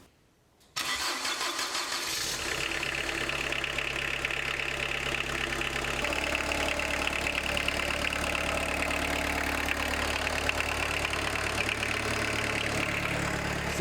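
An Opel Astra F engine, with a newly replaced timing belt, cranks from cold after preheating and catches after a moment of quiet, then settles into a steady, even idle that runs on without any voices.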